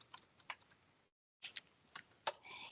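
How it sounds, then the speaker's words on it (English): Rapid keystrokes on a computer keyboard enter a filter name in a warehouse software query, a short burst of clicks, a brief pause, then a few more taps, close and fairly quiet. "then we're going to type in the filter name"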